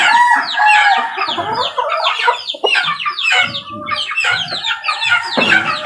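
A rooster or chicken clucks and crows up close, loud and busy, with repeated squawking calls and cackles filling the whole stretch; no talking.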